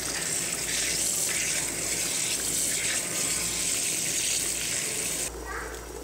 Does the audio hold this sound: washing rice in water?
yes